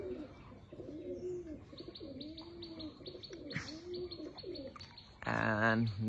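Pigeons coo softly in repeated low, rolling calls, with small chirps mixed in and a brief burst of rustling near the end.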